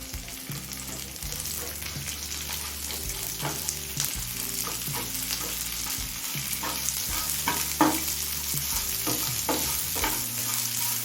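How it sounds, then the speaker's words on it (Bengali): Thinly sliced large onion frying with garlic in oil, a loud continuous sizzle with frequent spatula scrapes and clinks against the pan, plus a steady low hum beneath, and no one speaking. "এবার দিচ্ছি পাতলা করে কুচুনো একটা বড় সাইজের পেঁয়াজ"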